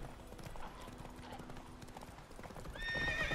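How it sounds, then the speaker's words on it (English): Horse hooves clip-clopping steadily in The Witcher 3 video game, close and moderately loud, ending with a neigh and with someone talking over it. "Whoa there, Roach"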